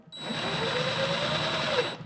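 A power drill boring a pilot hole into a kitchen cabinet gives a steady, continuous whine at close range for about two seconds, with no talking over it.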